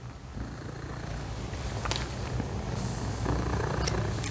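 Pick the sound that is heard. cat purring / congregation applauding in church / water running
cat purring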